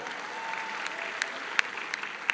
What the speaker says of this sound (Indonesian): Tepuk tangan sekali lagi untuk Pak Hatta Rajasa.